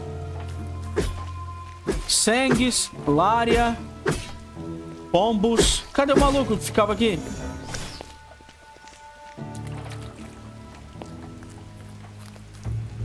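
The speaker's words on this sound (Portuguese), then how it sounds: "tá sempre chovendo aqui nessa merda?" Steady rain hisses softly in the video game Drova - Forsaken Kin, a constant wash running beneath someone talking and brief in-game effects.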